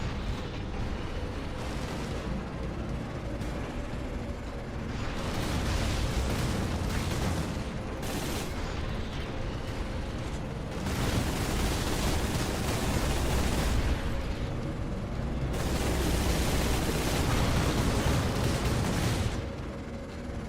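Heavy cannon blasts and rolling explosions from the Space Marine Anniversary Edition game, loud and sustained, in dense booming waves that swell and ease over and over.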